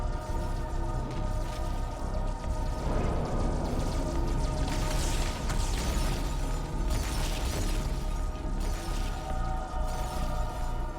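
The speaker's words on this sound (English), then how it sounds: "I think he's getting juggled by explosions." Dense, continuous rumbling bursts and crackling blasts from Halo 2, layered over steady broadband noise with no pauses.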